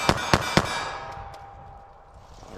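.380 ACP pistol firing Hornady American Gunner ammunition: three sharp, loud shots in quick succession, each with a short ringing tail, followed by quiet.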